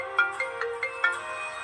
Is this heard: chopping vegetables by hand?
no